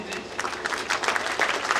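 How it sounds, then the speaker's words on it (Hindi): Seminar audience applause, a brief, fairly quiet burst of mixed clapping with a murmur of voices underneath. "प्लीज़ जोरदार तालियां फिर से"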